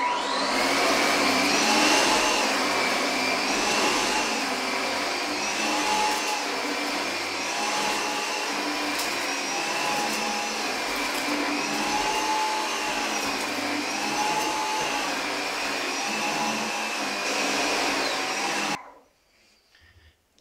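A Gtech Air Ram cordless vacuum cleaner runs steadily for about nineteen seconds, a loud whining motor with a shifting pitch as it pushes over the floor, then cuts off abruptly.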